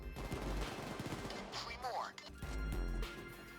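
Bursts of 9mm SMG fire in the video game Payday 2, during a Hotline Miami heist, crack out amid loud, dense game sound with other voices and effects layered over the shots.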